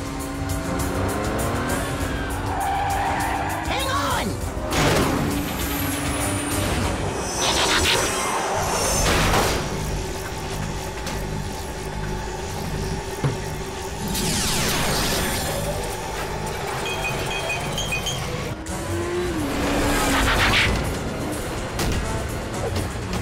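Animated chase with a runaway train engine racing along, a loud continuous roar with whooshing passes, screeching squeals and sweeping pitch shifts, busy and intense for the whole stretch.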